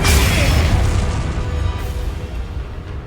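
A Confringo blast spell explodes in Hogwarts Legacy, a loud booming burst that rolls out into a fading rumble over about three seconds, with no speech over it.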